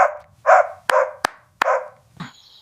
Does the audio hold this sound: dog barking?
yes